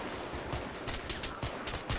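Gunfire in the video game Battlefield 3 during a co-op mission: a quiet string of short, sharp shot bursts at uneven intervals over a muffled background, with no talking.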